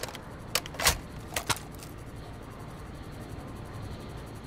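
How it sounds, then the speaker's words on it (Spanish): Magazine swap for a weapon in Call of Duty Modern Warfare: a few quick metallic clicks and clacks near the start, fairly faint over a low background hum, then quiet. "Cambio el cargador."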